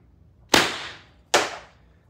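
A T8.1 Hitman air gun powered by a 20-gram CO2 cartridge fires two sharp, close cracks about a second apart, each with a short decaying tail, in a quiet setting.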